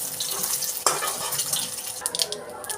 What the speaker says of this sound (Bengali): আলুটা তেজপাতা গোটা জিরে আর শুকনো লঙ্কা ফোড়ন দিয়ে আলুটা লাল লাল করে ভেজে নেব